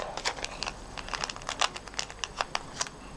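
Crisp, crinkly plastic rustles and soft taps as the flap of a small clear cellophane envelope holding handmade stamped paper bookmarks is pressed down and sealed, a quick run of close, light crackles.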